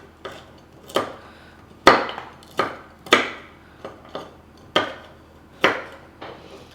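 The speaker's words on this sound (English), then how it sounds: "I like to chop my walnuts just into smaller pieces" Walnuts being chopped into small pieces with a knife on a board: about a dozen crisp, close knocks in an irregular rhythm, some sharper and louder than others.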